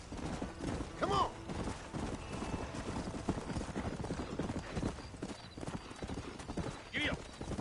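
Horse hooves clip-clop steadily at close range in the Western video game Red Dead Redemption, with a brief whinny and faint creaking tack over a continuous outdoor bed, and voices talking along the way.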